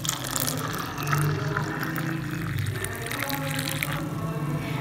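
Boiling water poured over a spoonful of dried herb in a cup, a steady close splashing and trickling stream running for several seconds.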